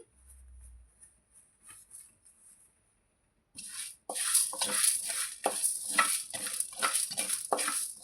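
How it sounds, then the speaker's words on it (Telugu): Cumin and coriander seeds dry-roasting in a pan with chana dal for a fenugreek-leaf chutney, a quiet start giving way to a steady bright sizzle with repeated scraping stirs through the second half. "కొంచెం జీలకర్ర కాసిన ధనియాలు ఇవి వేయించుకోవాలండి"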